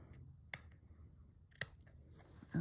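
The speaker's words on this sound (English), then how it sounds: "So I'm just going to snip a bigger chunk of this" Scissors snip through a piece of embroidery fabric in a quiet room, two distinct crisp cuts spaced about a second apart, close and clear with no talking.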